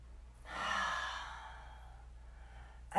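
During a yoga stretch, one long, soft exhale breathes out steadily and tapers off over about two seconds, close and quiet against a low hum, with no talking.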